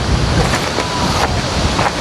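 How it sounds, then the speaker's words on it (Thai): Strong wind blows steadily across open countryside near a coffee garden in southern Laos, a loud, continuous rushing with buffeting gusts against the microphone and no voices. "ว่าลมพัด"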